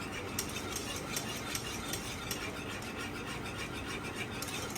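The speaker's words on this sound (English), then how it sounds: "Keep whisking at the same time." A simmering flour and milk sauce being whisked steadily in a pot, giving a continuous close scraping and clicking rattle with a fairly even rhythm and no talk over it.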